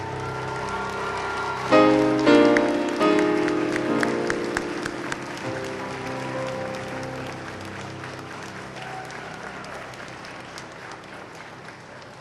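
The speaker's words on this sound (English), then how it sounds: "please offer an appreciative round of applause" Graduates and guests at a 2012 law school graduation ceremony give a long round of applause that swells loudly, then slowly thins and fades, with brief tonal music mixed in early on.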